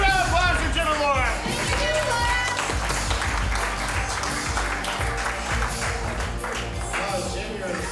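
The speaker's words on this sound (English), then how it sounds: "We need another round of applause for Manacle." An audience at a wrestling show breaks into loud, sustained applause and clapping with crowd babble, while an announcer's amplified voice talks over the start.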